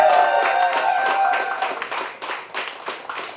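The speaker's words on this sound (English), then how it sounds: "Let's please keep that whooping and cheering up to the same level." Audience greeting a comedian with applause, cheering and whooping, dense clapping with shouted whoops, loud at first and then thinning into scattered claps.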